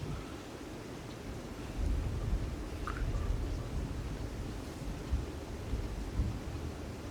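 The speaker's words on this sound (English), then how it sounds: "That was some loud thunder." Loud thunder during a rainstorm, a deep rolling rumble swelling a couple of seconds in and grumbling on, over steady rain hiss.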